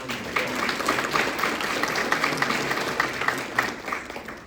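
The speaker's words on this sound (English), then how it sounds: "let's give those agencies a round of applause" Conference audience applauding during opening remarks, a steady, moderately loud crowd clapping with individual claps popping out of the wash, gently fading at the end.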